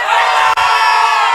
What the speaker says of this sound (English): Cheer for Harsha.